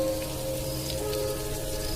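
Heavy stormy rain falling steadily on surfaces, a dense continuous wash of drops at moderate level with no voices.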